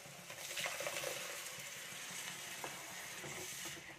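Ground coconut paste poured into a sizzling chilli mixture in a pan gives a steady, faint hiss and crackle with a few light scraping clicks, close up and without talk.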